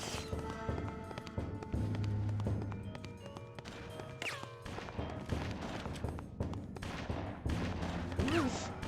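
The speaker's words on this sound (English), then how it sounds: "Who's shooting at me and from where?" Gunfire in the PS2 game Bloodrayne crackles in bursts over a busy game soundscape, fairly quiet overall. Scattered sharp shots and impacts mix with background music and effects.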